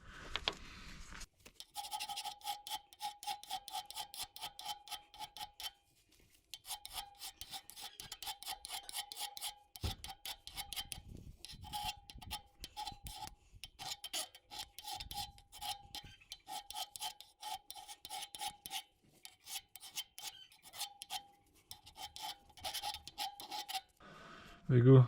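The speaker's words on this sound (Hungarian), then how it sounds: "úgyhogy most egy kicsit reszelővel ráigazítok." A hand file rasps at an adjusting knob for a KF-250 power saw in repeated close, bright strokes. The strokes come in bursts separated by short pauses, with a few knocks near the end.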